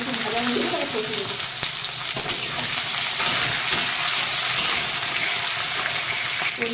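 Onion, green chili and potato fry in a pan for a Bengali hilsa-head and Malabar spinach dish, giving a steady, close, broadband sizzle and crackle that runs the whole time with no talk.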